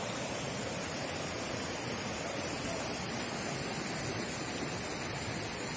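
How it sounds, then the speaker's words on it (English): Waterfall at Cibodas Botanical Gardens in a tropical setting, a steady broadband rushing roar heard from a distance, constant and fairly soft with no talk. "We're getting closer and closer to the waterfall."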